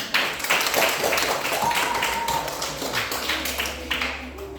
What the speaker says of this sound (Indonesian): kita tepuk tangan untuk kita semua dulu